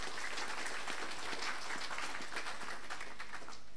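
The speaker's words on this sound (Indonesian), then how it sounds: "Ya, tepuk tangan untuk UBT." Audience applause at a university graduation ceremony in a hall, a steady wash of many hands clapping at moderate volume throughout, fairly distant and even, without talk over it.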